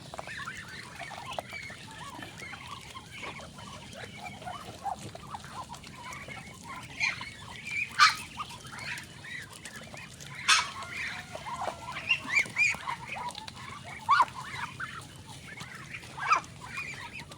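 A flock of pet ducks feeds on cabbage, giving off a steady bed of soft quacks and clucking calls with a few louder honks rising above it, near and continuous.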